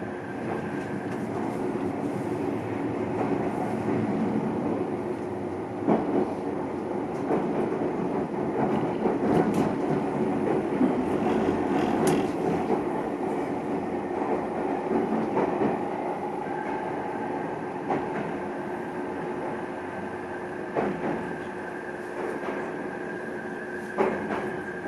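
Inside an Odakyu Romancecar limited express approaching Shinjuku terminal station: a steady carriage rumble with wheel clatter and faint squeals throughout, and no voices.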